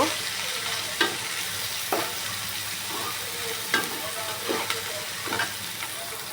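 Garlic and green chilies frying in oil, giving a dense, loud, continuous sizzle close by, broken every second or so by brief scraping strokes of a spatula, with no voices.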